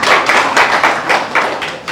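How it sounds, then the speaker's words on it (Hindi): Clapping from an audience at a felicitation ceremony for selected UP Police candidates, a steady dense patter of many hands, fairly close and loud throughout, with no voices over it. "भैया जोरदार तालियां"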